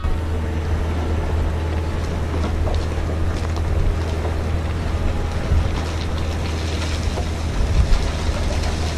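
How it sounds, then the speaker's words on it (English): A large mining dump truck's engine roars before tipping its load of rocks, a loud steady low rumble with deep drone and mechanical clatter close by. "listen to that engine roar as it gets ready to dump a mountain of rocks"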